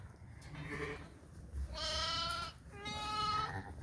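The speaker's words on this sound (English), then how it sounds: "there's lambs all over the place here. So we had another pair of lambs right here." Newborn lambs in a lambing jug on a sheep farm, bleating twice in short wavering calls close by against a low barn background hum.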